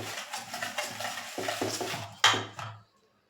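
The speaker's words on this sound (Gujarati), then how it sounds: "ખાંડ એડ કરીને પણ આપણે તેને બરાબર હલાવી લેશું." Sugar being stirred into shrikhand in a bowl with a spoon, giving a run of close scraping and clinking strokes, one sharper clink near the end before it stops, with no talk.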